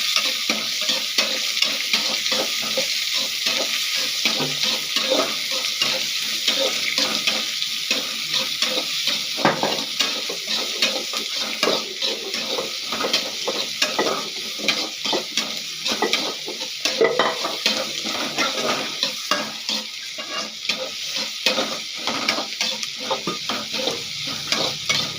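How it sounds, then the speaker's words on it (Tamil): Chopped onions sauté and sizzle in a frying pan for an egg fry, with steady frying hiss and frequent stirring scrapes throughout, close and fairly loud, with no talking. "வெங்காயம் இந்த அளவுக்கு வதங்கினா போதும்."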